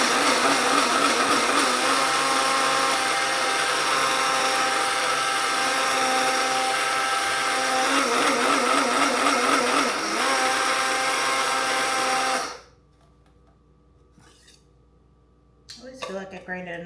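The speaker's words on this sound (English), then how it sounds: "grinding my coffee" A coffee grinder grinds beans in a loud, steady whirring drone for about twelve seconds, then cuts off abruptly, leaving quiet room tone before a brief clatter at the end.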